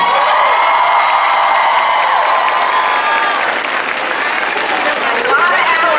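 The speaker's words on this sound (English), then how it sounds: "let's give a big round of applause to the family and friends who helped you get there" Applause fills a medical school graduation ceremony as the crowd claps for graduates' family and friends: dense, loud, sustained clapping with some cheering mixed in.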